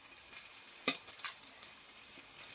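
Marinated fish frying in a pan for a fish keema coconut fry, giving a low steady sizzle with one sharp clatter and a few light stirring scrapes.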